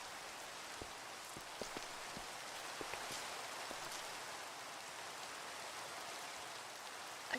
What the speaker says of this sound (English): Also, it's raining again.